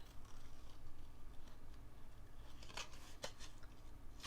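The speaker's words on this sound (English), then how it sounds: "I might just cut some extra leaves from my sheets here" Poor-quality scissors snip quickly through paper sheets for a scrapbook layout, giving a few faint, sharp cuts in the later part over a quiet indoor background.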